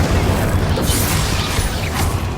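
An Incendio fire spell cast in the video game Hogwarts Legacy: a loud, continuous roaring whoosh over a deep booming rumble, sustained for a couple of seconds with small flaring bursts and no voices.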